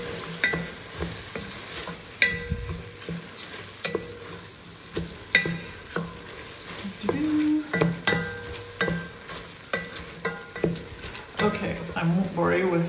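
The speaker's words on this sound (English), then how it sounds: "With 15 minutes of stirring" Food stirred in a hot pan, with a spoon scraping and clinking against the metal in irregular strokes over a continuous soft sizzle, close up and without talking.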